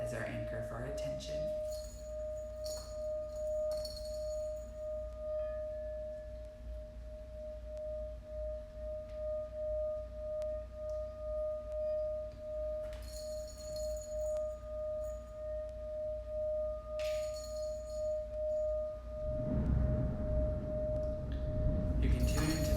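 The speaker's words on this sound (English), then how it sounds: "You can tune into the sound bowl." A singing bowl rings with a pure, sustained tone held steadily for about twenty seconds, faint and calm. Soft rain and a few brief clinks sit behind it, and a louder rustle comes at the end.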